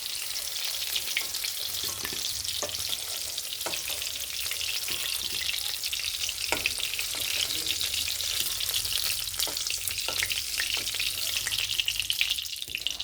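Cubes of paneer sizzle and crackle steadily in hot oil in a home kitchen pan, a continuous close frying hiss with scattered pops, heard alone without any talking.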